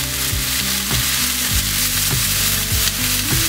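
Rice wine vinegar hits a hot pan of chicken and vegetables, giving a loud, steady sizzle and frying hiss with stirring scrapes throughout, close and with no talk.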